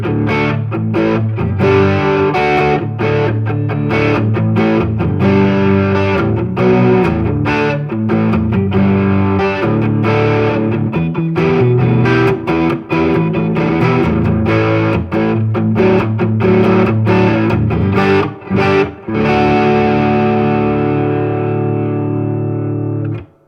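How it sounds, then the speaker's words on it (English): Electric guitar through a Tube Screamer overdrive into a Tone Master Deluxe Reverb amp, playing sustained riffs and chords, loud and continuous, ringing out briefly at the end. "Here's like a little bit of tube screamer."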